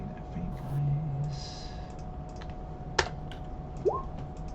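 Computer keyboard typing with scattered soft keystrokes and a couple of sharper clicks, close and fairly quiet, with brief voice sounds mixed in.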